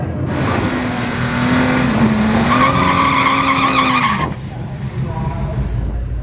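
A boosted Ford Falcon at a drag strip roars as it launches, engine note rising and holding loud with tire noise, then cutting off sharply to a lower background rumble.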